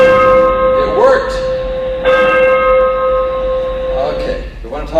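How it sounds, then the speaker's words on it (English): Church-style wedding bells ring as a played sound effect at a reunion presentation, loud sustained peals struck a few times over a droning hum, with voices talking quietly underneath. "those are supposed to be wedding bells"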